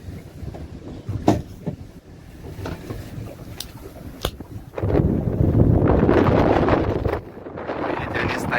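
Strong wind buffets the microphone on the open Black Sea aboard a fishing boat, swelling into a loud roaring gust midway before easing, with scattered knocks and faint talk underneath.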